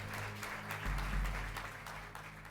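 Applause breaking out in a courtroom, a dense, sustained patter of many hands clapping together that swells slightly partway through and continues without talk.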